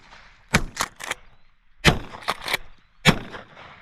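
Shotgun blasts during a Minnesota dove hunt: three sharp reports close together, then three more, then a final one, crisp and fairly near with quiet gaps between.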